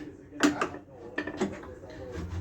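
A pressure cooker set down on a kitchen surface, giving a few close, sharp metallic clanks and knocks in quick succession.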